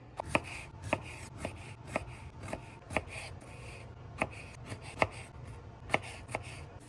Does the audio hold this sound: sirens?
no